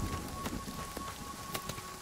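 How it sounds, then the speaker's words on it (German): Hail falling in the video game Nightingale, a dense steady patter of small hard impacts with scattered sharper clicks, continuous and fairly close with no talking. "du siehst richtig, wie der Hagel runterfällt."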